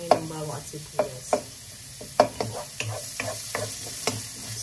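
Garlic and onion sautéing in a pan, a soft sizzle under repeated rhythmic clacks of a utensil stirring and scraping, close and moderately loud, with no one speaking.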